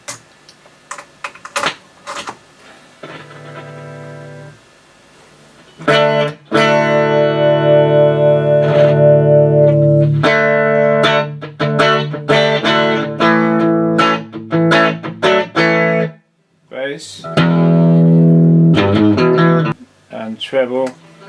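An electric guitar plays through a 1973 WEM Dominator MK3 amplifier on its second channel, sounding loud and sustained with bright overtones and distortion, in strummed chords and short bursts separated by brief pauses.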